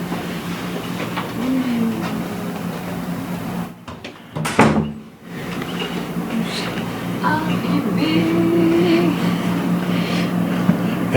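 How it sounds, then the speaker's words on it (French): A hotel room door in Chicago is handled midway, giving a brief burst of clunks and a latch click over a steady air-conditioning hum, with voices murmuring around it. "C'est la porte."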